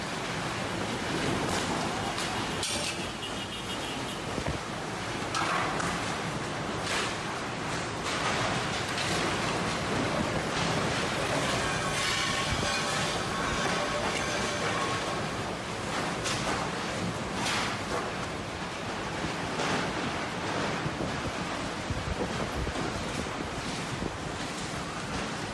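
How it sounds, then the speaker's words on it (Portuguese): Strong storm wind roars at the entrance of a shopping mall, a steady broadband rush with gusty swells, buffeting the microphone and pushing debris along, continuous and loud for the whole stretch with no voices. "Olha como o vento arrasta tudo pela frente."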